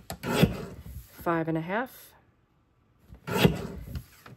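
A paper trimmer slices through paper for a scrapbook page kit in two short, close rasping strokes, separated by a brief spoken measurement and a quiet gap.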